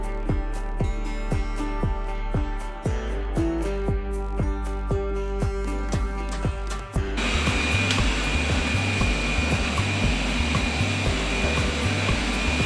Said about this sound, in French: il y a mon sèche-linge et mon aspirateur qui tournent